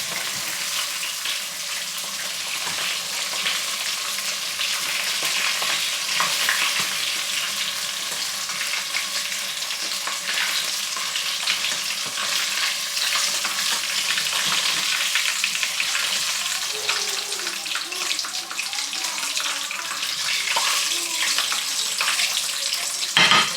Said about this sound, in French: Et je fais ma friture avec une friteuse tout simplement.